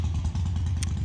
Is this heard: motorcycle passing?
yes